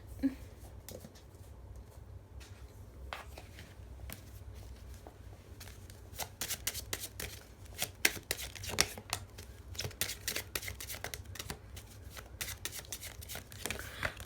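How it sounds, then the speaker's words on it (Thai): Tarot cards are gathered and shuffled on a table during a reading, producing a busy run of crisp flicks, riffles and soft slaps that grow denser toward the end, close and moderately loud. "เก็บไพ่แป๊บหนึ่งนะคะ"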